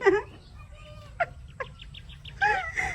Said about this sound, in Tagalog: Tandang.